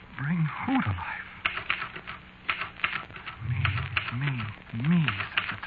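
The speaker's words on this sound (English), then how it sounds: "And the typewriter clacked away." A typewriter clacks in a 1947 radio drama, quick bursts of keystrokes over a narrow, old-broadcast sound, interleaved with low tonal sound effects and a voice speaking.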